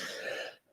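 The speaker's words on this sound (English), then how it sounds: "I can just hear my son coughing" A child clears his throat with a short cough, a single brief muffled burst from the background, fairly faint and heard alone.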